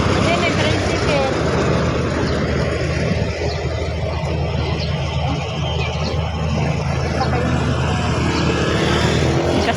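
A motor tricycle on a rural road gives a constant engine drone with a wind-buffeted rumble that lasts the whole ten seconds. Voices talk under the noise.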